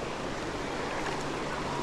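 Strong, fast-flowing river water at a trout fishing spot, a steady rushing wash that stays dense and even throughout, heard close up with no voices.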